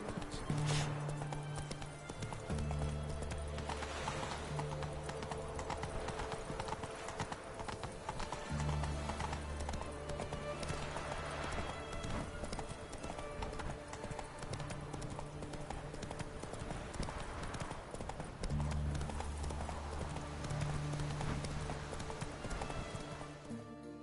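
Roach, a horse in The Witcher 3, gallops with continuous, rhythmic clip-clop hoofbeats that sound close and steady under a bed of game music.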